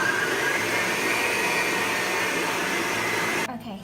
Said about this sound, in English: we're just going to let that beat and mix until soft peaks have formed